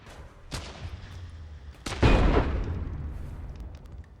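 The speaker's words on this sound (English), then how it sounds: "I shot the box." Gunshots hitting boxes in the pixel shooter game Untitled Pixel Simulator, a quick crack followed by a louder, booming blast with a rumbling tail that slowly dies away.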